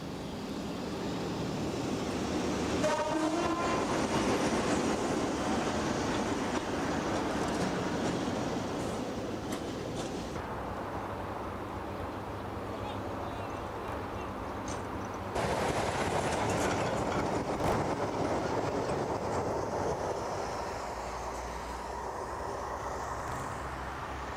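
A British Rail diesel freight locomotive with an English Electric power unit passes, a sustained rumble with rail clatter that swells and shifts as the train goes by, with no talk.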